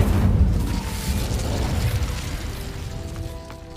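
Incendio fire spell cast in Hogwarts Legacy, a booming burst with a rumbling low roar that slowly fades, alone without talk.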